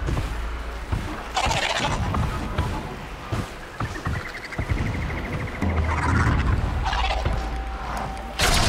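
A rooster-like machine creature in Horizon Zero Dawn lets out gobbling, warbling calls over loud, rumbling game action and combat noise, with a rising mechanical trill in the middle.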